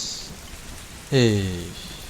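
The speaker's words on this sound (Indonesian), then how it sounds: "cuaca di bumi cuma hujan gerimis" Light drizzling rain gives a soft, steady hiss throughout, and a tonal voice-like sound rises over it partway through.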